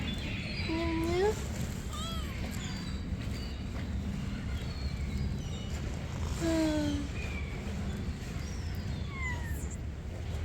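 Several cats meow outdoors in the morning while being fed, with a handful of distinct, rising meows spaced apart over a steady background hum.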